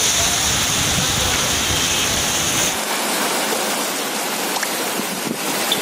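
Heavy rain in Tirunelveli, a steady loud wash of falling water that continues throughout with no break, the texture shifting partway through; no distinct thunder stands out.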